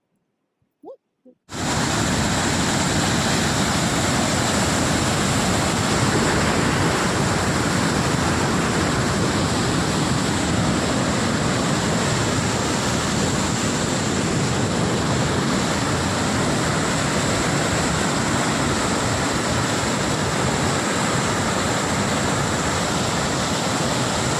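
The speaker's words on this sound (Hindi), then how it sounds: "आपको पानी कैसे निकल रहा है पुल के नीचे से है" A stream rushes loudly and continuously beneath stones, a steady broadband roar close at hand after a couple of brief knocks at the start.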